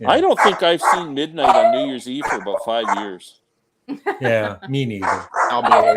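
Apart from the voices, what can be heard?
dog barking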